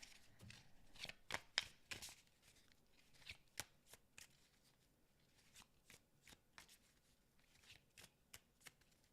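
Tarot cards are shuffled close up, a series of quick crisp riffles and flicks in irregular bursts, with quiet pauses between.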